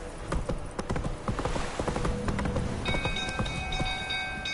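Hooves of horses in a video game clip-clop in a quick, busy patter over a constant mid-level background, with a few faint tonal notes sounding near the end and no talk.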